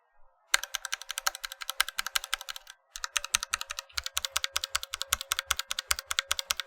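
Rapid, steady clacking of a Royal Kludge RK61 custom mechanical keyboard typed up close, with deeper thocky bottom-outs after a short pause.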